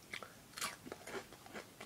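Crunchy fried food, such as onion rings, is bitten and chewed up close, with a quick series of sharp crisp crunches in an irregular rhythm over a quiet background.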